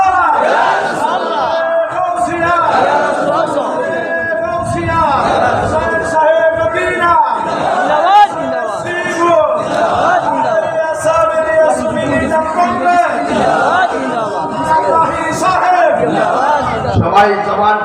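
A large crowd at an outdoor Islamic religious gathering (mahfil) in Rupganj chants slogans in loud, rhythmic unison, voices rising and falling in repeated call-and-response waves throughout.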